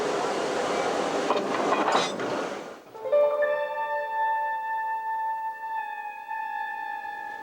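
A Southern Pacific Daylight passenger train climbing the Cascade mountains above the snow line behind two diesel helper locomotives: a loud rushing rumble of cars gives way to a sustained, chiming multi-note diesel horn chord.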